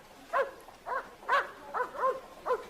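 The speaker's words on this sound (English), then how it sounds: "Is that your dog barking?" A dog barks six times in a steady, evenly spaced series, each bark short and moderately loud at a medium distance, with no talking over it.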